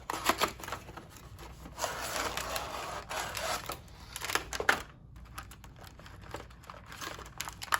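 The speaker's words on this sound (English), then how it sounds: "Let's go ahead and open up the box." The packaging box of an AHM ATSF reefer model is opened with close, busy crinkling, rustling and tapping of cardboard and plastic in irregular bursts, with no talk.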